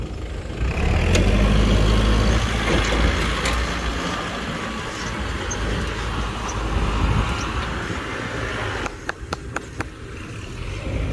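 A farm tractor engine runs in a field, a steady low rumble loud and close throughout, with a few sharp clicks near the end.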